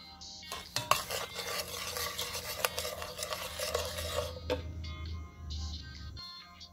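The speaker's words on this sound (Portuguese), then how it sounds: "Panela já quente, vou dourar, caramelizar esse açúcar cristal" Crystal sugar caramelizes in a hot pan with a steady crackling sizzle under repeated scraping and clinking of a spoon against the pan, then a sudden quieter stretch with faint clinks near the end.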